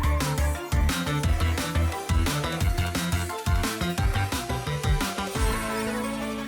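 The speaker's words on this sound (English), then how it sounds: "after star you get the very best sound effect for reaching the highest rank in Fall Guys" Superstar rank-up jingle from the Fall Guys video game, marking its highest rank: a busy, loud musical fanfare of rapid percussive hits and bright tones lasting several seconds, ending in a sustained swelling chord, with no speech.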